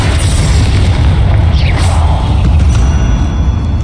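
Bombarda and Confringo explosion spells cast in Hogwarts Legacy inside a catacomb, heavy booming blasts with a whooshing swirl, loud and dense throughout.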